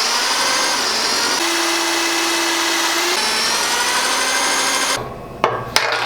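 A power drill bores through a plastic plate on a vehicle fuel tank: a loud, steady whirring grind with a constant whine runs for about five seconds, then stops and leaves a few short clatters.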